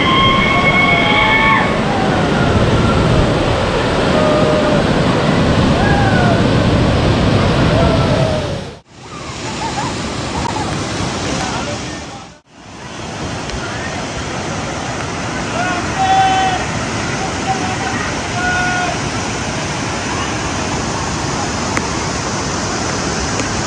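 Palase waterfall in Tamhini Ghat, a loud, constant broadband roar of falling water recorded up close, broken by two brief dropouts, with faint bird calls over the top.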